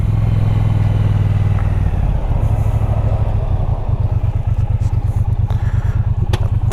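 A 2018 Triumph Bonneville motorcycle rides in first gear, its engine a loud, close, throbbing rumble whose pulse quickens steadily as it pulls away, with no talking.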